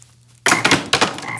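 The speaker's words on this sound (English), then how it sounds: "God is gonna send frogs." Frogs croaking as a sound effect, a loud burst of raspy, overlapping croaks that kicks in after a brief quiet pause and carries on in two pulsing waves.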